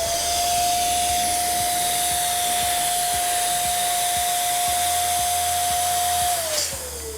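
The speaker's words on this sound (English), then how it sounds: "If you're using an electric pump, let me show you how much air this 18-inch needs." An electric pump blows air into an 18-inch balloon with a loud, steady, close whirring hum that runs for several seconds, then drops in pitch as it winds down.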